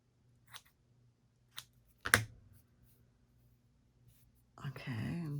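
Paper for a junk journal being cut with scissors in a quiet room: a few sharp snips, the loudest at about two seconds, with a soft crumpling rustle at the end.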